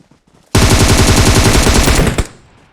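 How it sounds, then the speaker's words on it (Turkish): Automatic gunfire in PUBG Mobile rips out as a loud, close, rapid burst of evenly spaced shots lasting about two seconds, then cuts off abruptly into a short fading tail. "Vuruyorum vuruyorum da bana kill vermiyor ama"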